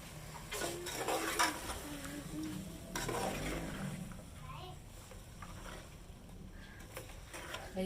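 Minced chicken keema with masala frying and being stirred in a pan, a soft sizzle with spatula scrapes and clinks that swell and fade, while someone talks over it.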